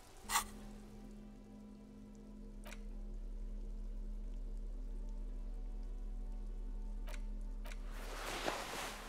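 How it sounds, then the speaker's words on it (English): Steady, quiet rainfall in the video game Disco Elysium patters continuously over a low background hum, with a few sharp ticks, and a brief louder burst near the end. "This rain will not let up anytime soon."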